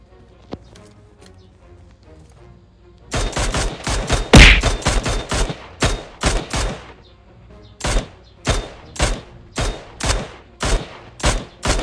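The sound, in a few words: gunfire in video game PUBG Mobile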